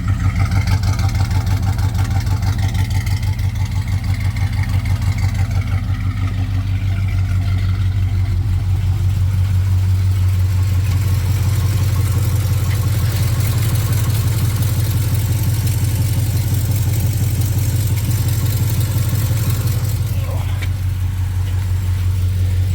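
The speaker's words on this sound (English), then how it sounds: "much less of an exhaust leak, still a minor one" A 1979 Camaro with a swapped LS engine idles steadily with a low, continuous rumble and a faint puffing rasp from a minor exhaust leak, running alone without talk.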